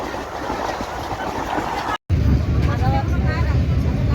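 A long passenger train bound for Chhatrapati Sambhajinagar (Aurangabad) rumbles steadily with rail clatter, heard from on board. Voices murmur underneath and there is a brief dropout midway.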